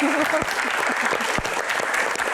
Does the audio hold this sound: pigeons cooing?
no